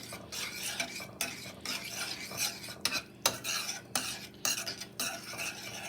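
Meatloaf mixture made with Italian-style breadcrumbs is mixed in a bowl, a continuous close scraping and squelching with irregular utensil clinks against the bowl, moderately quiet and with no voices.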